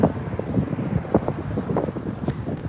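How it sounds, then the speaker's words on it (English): Gusty wind buffets the microphone in rough, uneven rumbles, close and fairly loud, with no clear voices. "Once I round this corner here, it won't be so windy."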